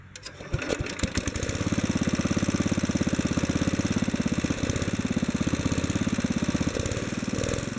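A Kohler K-series small engine runs steadily with a rapid, even putter after a carburetor adjustment, starting up in the first second and then holding loud and close without talk.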